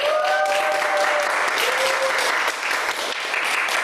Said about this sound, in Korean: 저희한테 엄청난 비전을 보여주신 사장님께 다시 한번 박수 부탁드리겠습니다.